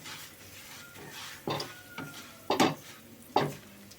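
Asafoetida going into a hot pan of oil in a village kitchen, with a soft sizzle under several distinct clanks and scrapes of a spoon stirring against the pan, close and fairly quiet.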